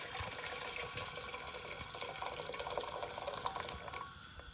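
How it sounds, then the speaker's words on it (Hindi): Water pours steadily into a cooking pot on a fast flame, boiling water being added before cassava (mogo) goes in, a continuous splashing rush that fills the short stretch without any talk. "इसमें मैं पूरा का पूरा पानी डाल दूंगी।"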